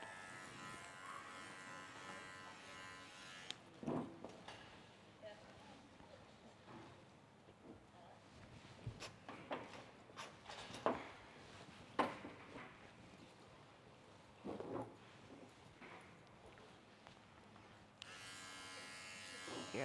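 Electric clippers grooming a Shih Tzu, a steady low buzzing hum that runs continuously at moderate level, broken by a few handling knocks, with a louder motor stretch at the start and end.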